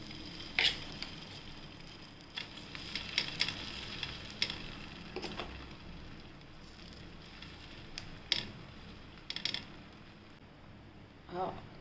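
Uttapam batter mixed with onion and tomato sizzling on a hot griddle, a soft steady frying hiss punctuated by sharp metallic taps and scrapes of a spatula.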